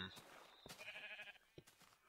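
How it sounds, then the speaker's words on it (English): Faint sheep bleats in Minecraft, a couple of short wavering calls under a person talking, with quiet game sounds around them. "Okay, sheep."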